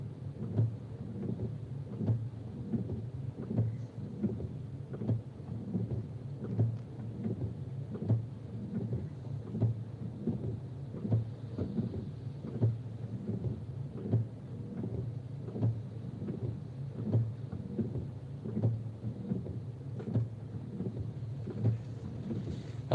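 Steady rain falls in Toyosaka, Japan, heard from near a Family Mart as a continuous low wash with regular soft thumps, moderately loud throughout and with no voices.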